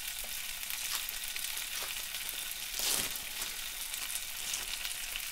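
Cheeseburger with cheese melting on top as it cooks on an Aldi George Foreman grill, a steady close hiss and crackle of frying with no talking.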